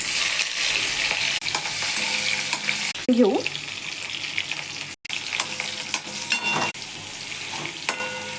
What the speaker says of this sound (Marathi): कढईमध्ये तेल तापवलं आणि त्याच्यानंतर त्याच्यात मोहरी घातली, चांगल्यापणे कडकडली। तर त्यानंतर आपण मिरची घालून घेऊ।